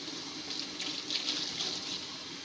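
Tap water running into an emptied pizza sauce can to rinse it out, a steady hissing splash with slight swirling variations, continuous and fairly quiet, with no talking.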